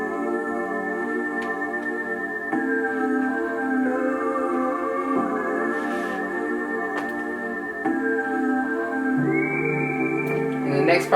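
Chill beat built on Maschine MK3 with layered chords and an OP-1 synth: sustained harmonic chord tones shift every few seconds with a gliding synth lead on top, steady and moderately loud, with no talking.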